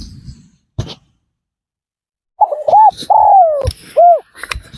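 A spotted dove used as a lure bird coos in a few loud, close, hooting phrases after a quiet stretch, with short clicks and knocks around them.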